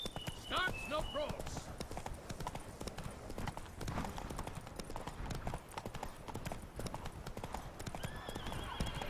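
Horse hooves clip-clop at a run in Witcher 3, with a short whinny near the start, all under ongoing game dialogue.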